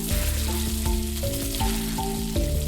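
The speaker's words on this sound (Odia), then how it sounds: "ଏବେ ସେଇ ତେଲରେ କିଛି ଗୋଟା ମସଲା ପକାଇବା। ଡାଳଚିନି, ଜାବିତ୍ରୀ, ଜିରା" Whole cinnamon, mace and cumin frying in hot oil for chicken biryani give a close, continuous crackling sizzle with a few soft stirring touches in the pan.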